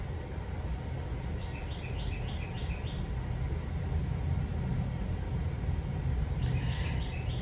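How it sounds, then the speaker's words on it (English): Small birds chirp in quick, repeated trills outdoors in the early morning, faint and distant over a steady background hum, with a burst early on and another near the end. "You hear the early birds, the little early birds out there."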